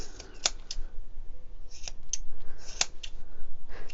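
Scissors snip the loose ends of a handmade tassel, two or three sharp close cuts spaced a second or more apart over a faint background hiss.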